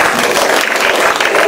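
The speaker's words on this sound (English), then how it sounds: "A round of applause," Short burst of dense clapping from a live comedy show audience, steady and fairly loud throughout without a clear start or end.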